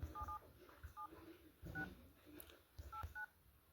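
Phone keypad dialing tones sound as a number is entered, with short beeps in small groups at close range, faint and clear against a quiet background.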